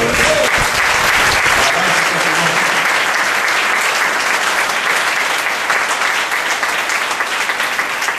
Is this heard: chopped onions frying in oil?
no